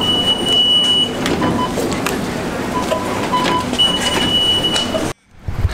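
Rumbling interior of a moving train with steady low noise and clatter, brief tonal squeals, ending abruptly in near silence.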